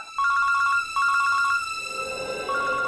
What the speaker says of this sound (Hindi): बंटी के स्कूल से फोन